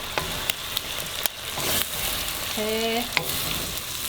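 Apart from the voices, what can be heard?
eggs frying in a wok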